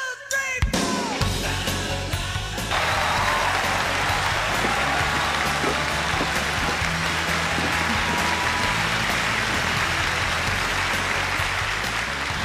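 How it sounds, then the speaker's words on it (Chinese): Studio audience applause on a Chinese job-interview show as a contestant is welcomed, starting after a brief musical sting and then holding as a loud, dense, continuous round of clapping for several seconds, no speech. "掌声有请王希贝"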